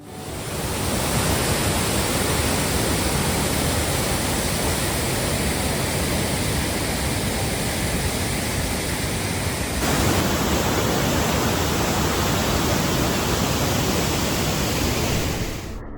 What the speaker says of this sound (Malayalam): സുന്ദരമായ ഒരു വെള്ളച്ചാട്ടം തന്നെയാണ് കൊച്ചുകുത്ത് വാട്ടർഫാൾസ്